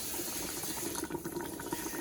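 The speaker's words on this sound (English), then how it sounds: "all we're gonna do is run some water through them." Cold tap water runs through beans in a colander or pot while chili is prepared, a steady, close gushing stream that stays loud and constant with no talking.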